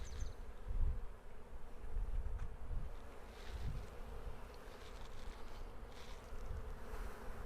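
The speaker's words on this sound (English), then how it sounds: "This is the box that the queen is contained in. As you can see, she has quite a following." A dense buzzing of many honey bees swarming around a queen box hums close by, steady and droning with small swells, with no talking.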